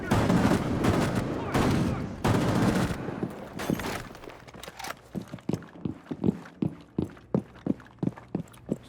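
Gunfire in the tactical shooter T-Hunt mode: dense, loud bursts of automatic fire at first, then a steady run of separate sharp shots spaced about half a second apart, heard alone.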